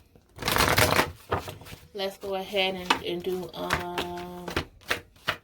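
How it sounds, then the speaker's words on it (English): A deck of tarot cards is shuffled in quick riffling bursts at the start and again near the end, close and crisp, while a person speaks between them. "Just trying to shuffle these up real good"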